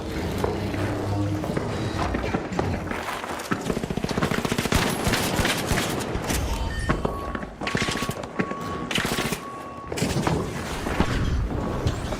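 Dense gunfire from a first-person shooter match in The Finals, with sniper shots amid rapid automatic bursts and heavy firing that stays loud and continuous, plus occasional footsteps in the mix.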